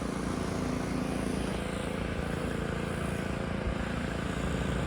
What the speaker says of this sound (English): somebody's pressure washing their vehicle right now, so we're not getting the peace and quiet that we deserve